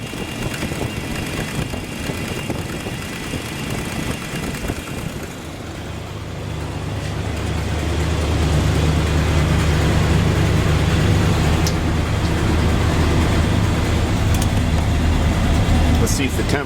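A big block engine runs in a squarebody truck, a steady low rumble joined partway through by a louder whooshing cooling fan that swells and holds, with a voice speaking briefly over it.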